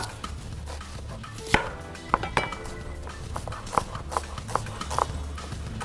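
Knife chopping red onion into julienne strips on a cutting board, a run of sharp, separate close taps with a faint low hum underneath.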